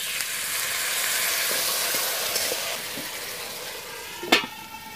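Boiled potatoes sizzle in a pan of well-sautéed spice mix, a steady close frying hiss that runs throughout, with a sharp clatter of stirring near the end.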